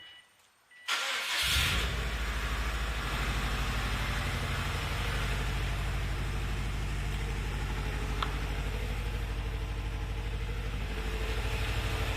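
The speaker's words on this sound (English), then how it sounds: "First startup." A 2004 Subaru WRX STi with a newly installed catback exhaust cranks and fires up for the first time after a brief silence, then settles into a steady, throbbing idle that runs on evenly and close by.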